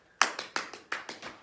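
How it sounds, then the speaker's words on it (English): Hands clap seven times in a quick, slightly uneven rhythm, sharp and close in an otherwise quiet space. "see how many claps you can do"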